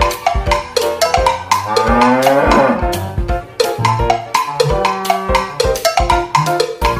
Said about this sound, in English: Blue cow!